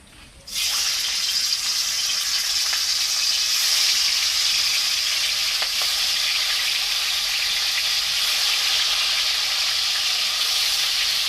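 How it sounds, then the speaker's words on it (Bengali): Tangra fish frying in hot oil in a wok gives a steady, loud, hissing sizzle that starts abruptly and holds evenly to the end, with no talk. "সব কটা মাছ আমার ভাজা হয়ে গেছে"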